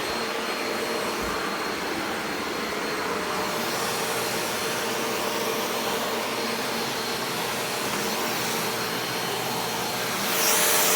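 A $130 deep-clean vacuum cleaner runs steadily throughout, a loud, continuous broadband roar with no pauses and a slight surge at the very end.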